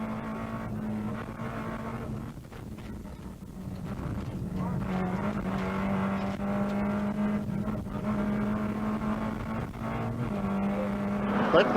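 A Peugeot rally car at the 1986 Killarney Rally of the Lakes, heard from a camera on its bonnet: a steady, close engine drone with shifting pitch and a voice talking over it.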